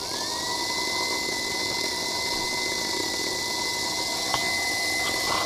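An OS3 TFX slot car motor fitted with a 19-tooth rear gear spins up on a dyno, its thin whine quickly rising to a steady high-pitched hum that holds with a faint click near the end.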